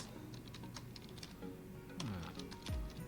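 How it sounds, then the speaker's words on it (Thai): Quick keystrokes on a computer keyboard, as a web address is entered in Google Chrome, tap in a brisk irregular patter at close range, with a couple of soft thuds and no talking. "พิมพ์คำว่าอะไรครับ class"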